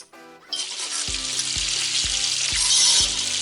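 Onions, garlic and sausage fry for a homemade sauce in a loud, steady, close sizzle that starts abruptly, with a low repeated knocking thump about every half second underneath and no talking.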